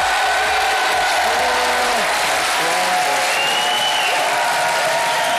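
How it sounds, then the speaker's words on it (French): Loud, sustained applause from a television studio audience greeting a guest on a French entertainment show, a dense wash of clapping with faint crowd voices mixed in. "je vais vous demander d'applaudir Cadmerade."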